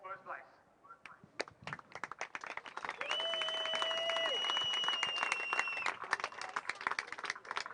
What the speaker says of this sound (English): a big round of applause for your podium here for Super 600s